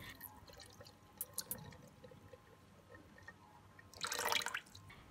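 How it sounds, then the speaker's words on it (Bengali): Water, 250 ml, pours into a blender jug holding peeled almonds: a quiet splashing fill rises near the end, after faint scattered drips and clinks. "সাথে দিচ্ছি 250 ml পানি।"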